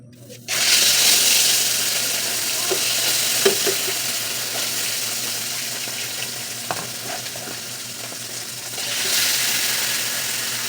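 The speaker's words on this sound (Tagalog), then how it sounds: "Prito na nato ang atong isda." Fish sizzles and crackles steadily in a hot frying pan with oil, with occasional scrapes and clinks from stirring.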